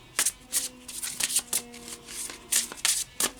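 A deck of oracle cards being shuffled by hand, a quick series of crisp riffling bursts, close and clear, with a faint tone lingering underneath and no talk.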